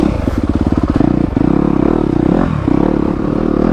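A 2021 Yamaha YZ250FX dirt bike engine running close and loud, with a rapid buzzing throb that revs and pulses without pause.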